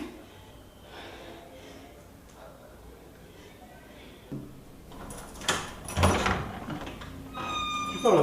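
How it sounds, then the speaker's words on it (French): A door in a home is pushed shut, a sharp knock and rattle followed by a couple of loud thumps and scraping. Breathing and voices are heard close by. "Tu fermes la porte, c'est comment?"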